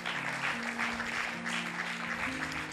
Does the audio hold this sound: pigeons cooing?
no